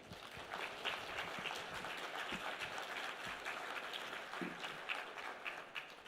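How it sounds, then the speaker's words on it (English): Audience applause at a real estate national convention, welcoming a government minister as he arrives: steady, sustained clapping from a large crowd filling the hall without a break. "So I would request everyone to put a huge applause welcoming him."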